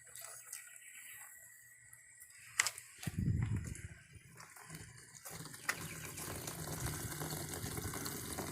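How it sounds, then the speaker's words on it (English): Water runs from a spigot through a hose into a micro camper van's water tank, a soft continuous rush with a few clunks and bumps near the middle. "There's the water coming in."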